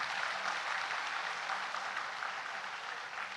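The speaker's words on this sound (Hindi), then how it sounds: "उनके लिए जोरदार ताली बजाइए आप एक बार।" A convocation ceremony audience applauds its teachers, dense and steady clapping that fills the hall without a break and stays loud from start to finish.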